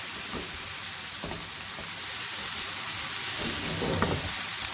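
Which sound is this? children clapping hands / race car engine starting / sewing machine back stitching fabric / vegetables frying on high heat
vegetables frying on high heat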